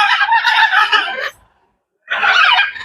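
Blue-and-yellow macaws and other parrots at Dehiwala Zoo let out harsh, piercing screeches in two loud bursts separated by a brief silent gap.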